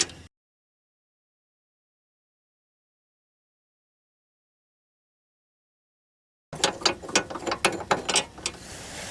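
A ratchet loosens 15 mm steering rack bolts on a Chevy HHR, giving a close run of rapid metallic clicks after a long silence.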